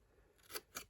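Scissors snip through a paper craft flap on a mini stack of tabletop Christmas present decorations: two quick, crisp, close cuts in fairly quiet surroundings.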